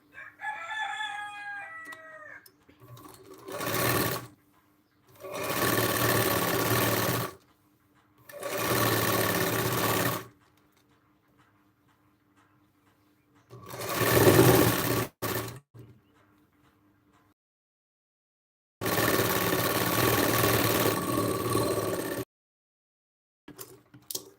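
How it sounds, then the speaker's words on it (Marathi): Sewing machine stitching a blouse, running in several separate bursts of steady whirring, each a few seconds long, with pauses between; a rooster crows faintly near the start. "आपण ह्या साईडून पण शिलाई करून घ्यायची"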